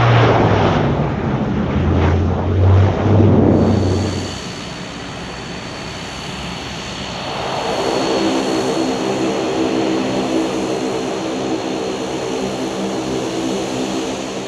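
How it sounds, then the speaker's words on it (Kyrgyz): Bombardier Dash 8 turboprop airliner at Osh international airport, a loud droning propeller roar with a steady engine whine that shifts in tone partway through, sustained and close, with no voices. "Мамлекеттик авиакомпаниянын Bombardier Dash 8 учагынын алгачкы каттамы Ош эл аралык аэропортуна ийгиликтүү кондо."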